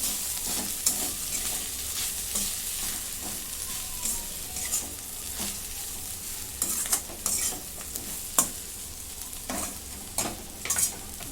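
Greens of red amaranth being stirred with crushed peanut powder in a hot pan, giving steady soft scraping and sizzling with irregular spatula clacks throughout, close and fairly quiet, no voices.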